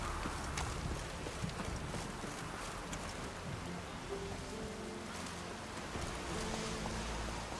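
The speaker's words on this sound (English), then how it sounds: "Let's get on, Roach" A horse gallops in The Witcher 3 video game, its hooves giving a faint, continuous clip-clop under a rain-like wash of background noise, with no talking.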